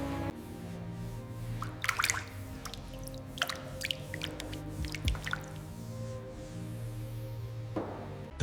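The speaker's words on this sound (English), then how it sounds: "The clear water washes away the thick foam, revealing the true state of the oxidized paint beneath." Clear rinse water runs over thick foam on the chassis of a 1940 Mercedes-Benz 540K with oxidized paint, a low steady flow broken by scattered close drips and wet splats.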